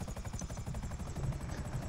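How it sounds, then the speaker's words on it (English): Helicopter rotor chopping steadily with a fast, even thump, fairly faint and continuous with no voices. "The helicopter's had him."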